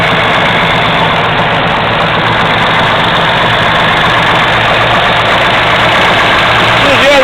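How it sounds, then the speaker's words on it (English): A 1970 Camaro SS V8 with a Z28 302 cam idles close by, its solid lifters rattling over a steady low exhaust rumble and transmission whine, a constant loud mechanical clatter throughout. "You get a grand cacophony of sounds between the lifter rattle and the transmission whine and the exhaust note."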